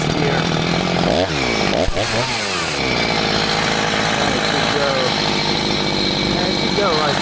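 A chainsaw cuts into a tree on a farm, close and loud. The engine revs and bogs in rising and falling sweeps, then drones steadily, while someone talks over it.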